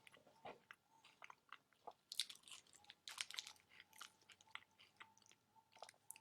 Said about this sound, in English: start chewing.